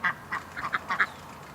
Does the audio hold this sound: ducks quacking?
yes